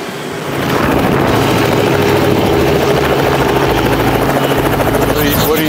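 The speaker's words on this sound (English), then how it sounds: "Helicopter, helicopter, helicopter, helicopter." Helicopter rotor thudding steadily and loudly near a seafood buffet in Myrtle Beach, a continuous chopping drone that swells in after the first second and holds, with voices talking over it.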